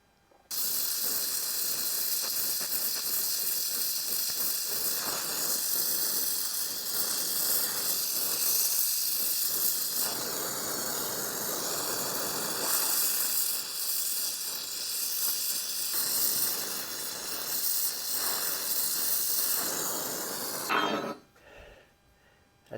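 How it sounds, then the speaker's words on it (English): Steady, loud broadband hiss from a brazing torch flame, worked on a ground-out crack in a motorcycle throttle handle, holding continuously for about twenty seconds before cutting off abruptly. "we're getting ready to braze that up"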